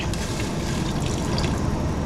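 Water is poured into a pot of browned rice while cooking, giving a continuous splashing, gurgling pour at close range with no talk over it.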